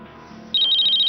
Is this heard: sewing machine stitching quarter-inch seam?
no